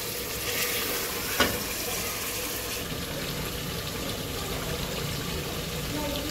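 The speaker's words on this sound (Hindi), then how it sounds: "अदरक लहसुन के साथ इसको तकरीबन 10 मिनट तक मैं भूनूंगी अच्छे तरीके से" Steady sizzling of beef frying with ginger and garlic in a pan, constant and close, with a faint clink partway through.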